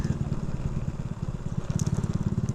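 Honda Revo FI motorcycle with an R9 racing exhaust and no dB killer fitted, idling with a loud, close, pulsing low rumble and quick blips of throttle, alone without talk.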